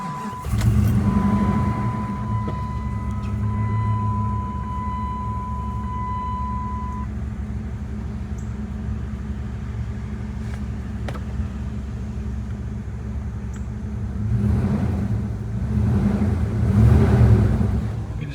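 A car engine cranks and settles into a steady idle in a driveway right after an oil change, a continuous low rumble that holds through, with a brief higher surge near the end.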